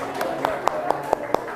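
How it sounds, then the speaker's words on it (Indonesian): Short sharp claps ring out at a steady rhythm as a classroom applauds a student group, with a faint murmur of voices beneath. "Tepuk tangan dulu untuk kelompok 4."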